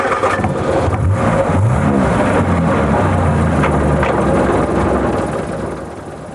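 Classic Morris Minor car engine revving, loud and close, the pitch climbing and holding steady as the car pulls away, then fading slightly at the end.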